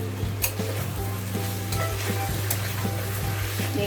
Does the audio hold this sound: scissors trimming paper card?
no